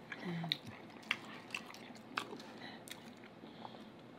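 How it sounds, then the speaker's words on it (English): Chicken and shrimp alfredo in an extra creamy sauce being chewed during a mukbang: soft, wet, squishy chewing and biting close to the mic, with a few sharper bites spread through a quiet room. "Okay, you still chewing."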